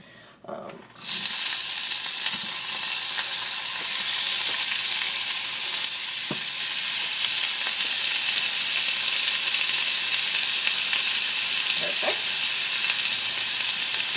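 Olive oil sizzles and crackles steadily in a hot nonstick skillet on a stovetop, a loud continuous frying hiss that starts abruptly after a brief quiet moment and holds for the rest of the clip.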